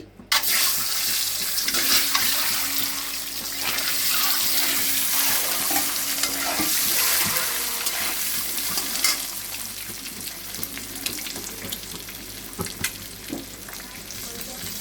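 Eggs sizzle and crackle in a hot pan, a steady close hiss with occasional scraping and tapping.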